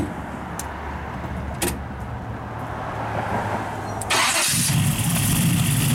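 A 1969 Pontiac Firebird with ceramic headers and a full 3-inch exhaust sits quiet with faint rustles before its engine cranks and fires at once, settling into a loud, steady close-up run.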